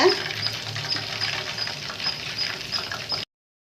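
Battered prawns fry in hot oil over medium heat, giving a steady, close crackling sizzle that runs unbroken for about three seconds and then stops abruptly.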